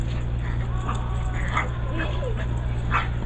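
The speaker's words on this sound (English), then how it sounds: "And the little dog there, she's only 6 months old." A small six-month-old puppy plays in a park with another dog, giving a few faint yips and whimpers over steady background hum while someone talks.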